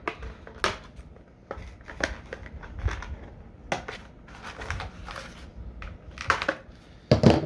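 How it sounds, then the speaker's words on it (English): Sharp snipping and crunching as scissors cut through stiff plastic twist ties on GI Joe Classified Series action figure packaging, a run of irregular close clicks and snaps with quiet handling rustle between them. "twist ties be damned, I have scissors"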